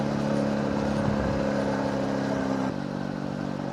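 A folding moped's small engine drones steadily and loudly up close while being ridden, with a constant buzzing hum and a slight drop in pitch and level near the end, and no one talking.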